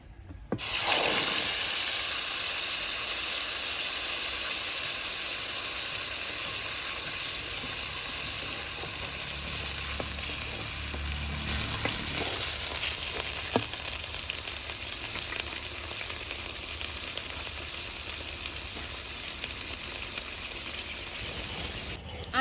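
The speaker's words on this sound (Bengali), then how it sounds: "এবার দেব ফোড়নের ওপরে আদা জিরে আর শুকনো লঙ্কা বাটা" Ginger, cumin and dry red chili paste frying in hot oil over a tempering of nigella seeds and bay leaf, a loud continuous hiss and sizzle that holds steady for a long stretch with faint occasional stirring.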